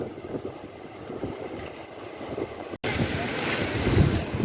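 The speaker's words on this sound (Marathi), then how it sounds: "आमच्या मालगुणचा समुद्र किनारा चला आता आंघोळीला उतरूया" Sea waves wash onto Malgund beach on the Konkan coast, a rolling surf roar buffeted by gusts of wind against the microphone.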